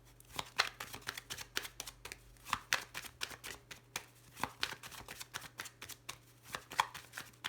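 A deck of tarot cards is shuffled and cut close up, a series of crisp riffling flicks and soft slaps in irregular bursts, fairly quiet with no talk over it.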